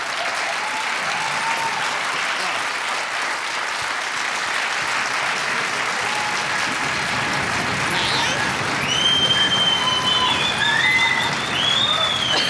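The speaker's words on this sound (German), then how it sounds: "Publikum begeistert." A television studio audience on a German talk show applauds: dense, sustained clapping that fills the room for the whole stretch, swelling slightly toward the end, with a few high whistle-like cries near the close.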